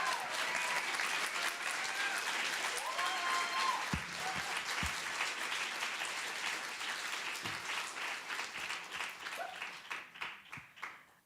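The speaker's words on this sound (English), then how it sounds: "Can we get another round of applause for" Sustained audience applause for a poet at a poetry center reading, dense and steady for most of the stretch before thinning into scattered claps near the end.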